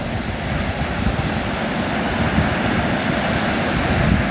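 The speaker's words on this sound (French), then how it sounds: "Mer un peu, pas agitée, mais un peu." Moderately rough sea on an overcast day along the Spanish coast near Santillana del Mar and Gijón, steady rushing surf mixed with strong wind noise, continuous and loud with no talk.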